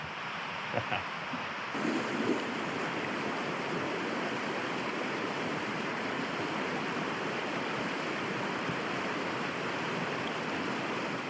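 A rushing stream in Lapland pours in a steady, broadband roar, close and continuous, with a few faint knocks at the start and no voices.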